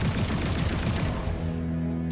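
An SMG-ammo gun in Borderlands fires a rapid stream of shots for about a second and a half, loud and close, then stops and leaves a fading ringing tail.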